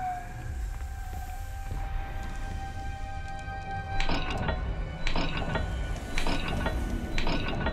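Dial puzzle mechanism turning in Hogwarts Legacy, giving a few clicking, ratcheting bursts over a steady low hum and tones, fairly close.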